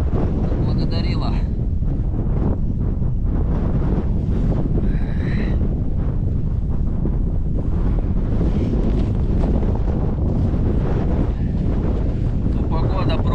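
Blizzard wind blows during winter ice fishing for pike, a loud, constant roar buffeting the microphone close up for the whole stretch.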